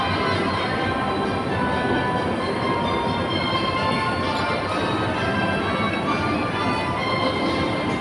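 A train runs at Sunny Bay Station on the line to Hong Kong Disneyland on a rainy day, producing a loud, continuous rumbling roar with faint ringing tones throughout.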